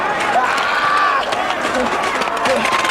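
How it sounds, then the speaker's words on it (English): Crowd at a 1999 FMW King of Deathmatch wrestling event roaring and cheering steadily throughout, loud and continuous, with a commentator's voice over it. "This crowd is really eating this up."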